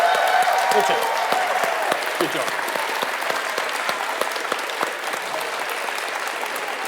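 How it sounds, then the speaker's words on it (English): A standing ovation from an event audience, loud dense applause that stays steady and slowly thins, with a voice briefly speaking near the start. "Man, we're even getting a standing ovation."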